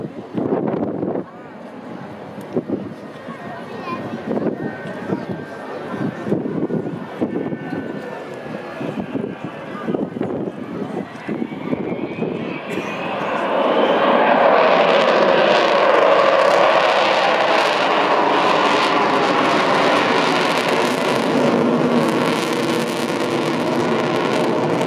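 The Avro Vulcan XH558 bomber is heard at a Scottish airshow, with a public-address commentator speaking over wind noise before the jet's deep roar swells and holds loud as the aircraft passes.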